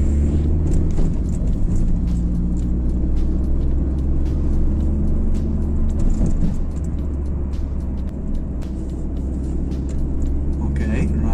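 A Hyundai Coupe engine pulls in third gear on an open road, a low, steady interior drone with rumbling undertones heard from inside the car, while a person talks over it.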